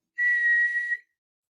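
A single sharp, high whistle blast of about one second, blown to call dogs back inside, sounding clear and alone against silence.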